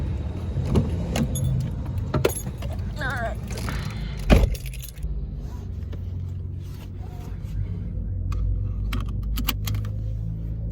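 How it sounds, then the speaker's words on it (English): Car keys jangle as a car is unlocked and entered on a street in Lima, Peru, with a door thump and faint traffic hum around, while a person speaks briefly. "Gonna unlock the car."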